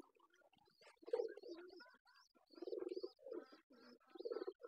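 Pigeons coo softly in their loft, faint, throaty bursts repeating in uneven phrases with short pauses between them.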